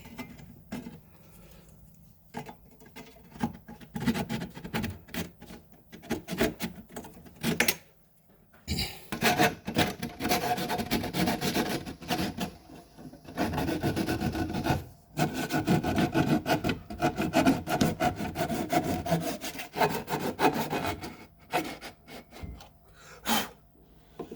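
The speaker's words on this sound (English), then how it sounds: "So then we take this kerf saw in here." Kerf saw cutting into wood to close a 7/16-inch gap, heard as steady, loud rasping strokes with brief pauses between bursts, up close and alone without talk.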